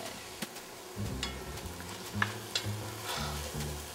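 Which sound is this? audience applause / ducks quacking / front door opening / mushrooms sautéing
mushrooms sautéing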